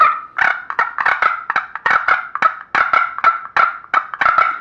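A handheld wooden scratchbox turkey call is played by dragging its soundboard across a striker board to imitate two gobblers fighting. Loud, close, raspy purrs and chatters arrive in rapid uneven bursts, with no voices.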